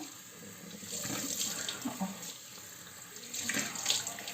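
Tap water runs steadily into a sink while someone washes their face, a close hiss with soft splashes and small uneven surges, and no talking.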